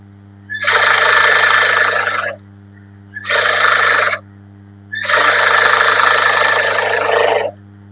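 A sewing machine stitching the lining of a blouse runs in three loud, close bursts, a short pause between each run, over a steady low hum.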